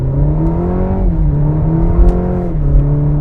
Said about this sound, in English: So let's try flooring it around the corner.